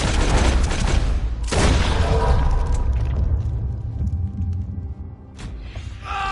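Gunfire in Red Dead Redemption 2: a loud close gunshot opens, a second sharp shot follows with a long rolling echo, and a fainter third report comes near the end, with no voices.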